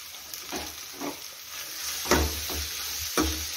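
Thecha frying in a pan with mashed boiled potatoes being stirred in, soft sizzle under repeated scraping stir strokes, with a few louder clanks of the spatula against the pan near the end.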